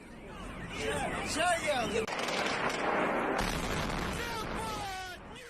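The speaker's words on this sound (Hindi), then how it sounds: "ड्रोन हमले से बहुमंजिला इमारत में जोरदार ब्लास्ट हुआ।" A drone strike explosion on a multi-storey building gives a loud, sustained blast that rumbles and roars for several seconds, with voices and shouting mixed through the noise.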